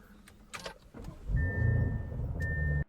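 A few clicks and knocks, then a car engine turns over and runs with a low rumble, a high whine sounding on top.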